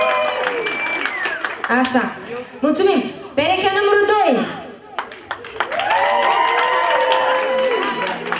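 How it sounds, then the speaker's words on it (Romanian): Applause and cheering from an audience at a Romanian dance contest as couples are called forward, the crowd noise swelling in bursts around a loud announcer calling out couple numbers over a microphone. "Pereche numărul 1, aplaudăm!"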